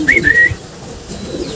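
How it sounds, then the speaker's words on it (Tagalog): A homing pigeon newly back in its loft gives a short, close coo with a brief whistled note, heard alone and fairly loud. "Meron tayong bumalik na ibon na yun o."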